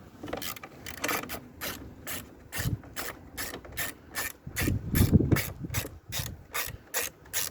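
Ratchet wrench, 10 mm, loosening the terminal on a Citroën C4 start-stop car battery: a steady run of sharp, close clicking pawl strokes in quick rhythmic bursts across the whole stretch, with no talk.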